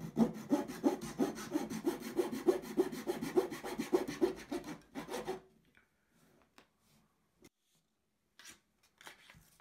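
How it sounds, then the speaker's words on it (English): Excess wooden capping is sawn off a 1/84 scale HMS Victory beakhead roundhouse, a close, steady back-and-forth rasping of small strokes for about five seconds, followed by quiet with a few faint scattered taps. "We can turn it upside down and just cut off this excess."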